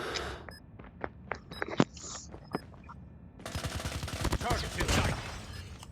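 Video game gunfire arrives first as scattered sharp single shots and short bursts, then as a sustained dense volley of rapid rounds, moderately loud, with brief game voice lines woven in.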